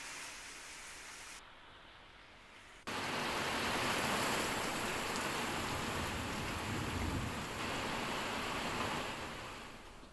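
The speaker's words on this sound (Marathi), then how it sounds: "लांजा, रत्नागिरी, राजापूर या परिसरात पाऊस सध्या बरसतो आहे" Monsoon rain falls steadily in the Lanja, Ratnagiri and Rajapur area of Maharashtra, a broad continuous hiss that drops briefly then returns heavier and holds loud to the end, with no voices.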